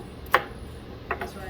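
A knife chops celery and other vegetables on a board during a cooking class on the Amazon, giving a few sharp, close thuds over a low background murmur.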